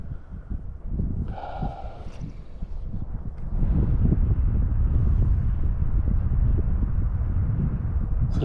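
Gusty wind buffets the microphone beside a creek while wading for smallmouth bass in March, a rough low rumble that strengthens and holds steady in the second half.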